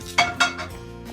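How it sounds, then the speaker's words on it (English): Ground meat for kotleti is mixed by hand in a big bowl: two quick knocks and scrapes against the bowl, then a brief soft shuffle, close and clear. "So now we're just gonna mix this first around up like that"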